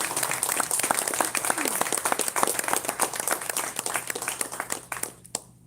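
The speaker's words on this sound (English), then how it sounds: "Let's give them a round of applause." Audience applause at a veterans' event, a crowd clapping in a dense patter that holds steady, then thins and fades out near the end.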